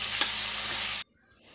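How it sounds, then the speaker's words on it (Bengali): Spice paste stir-fried with potatoes makes a loud, steady sizzle with a light scrape of the spoon, then cuts off abruptly into near silence after about a second. "এদিকে মশলাটা ভালো করে কষিয়ে নিচ্ছি"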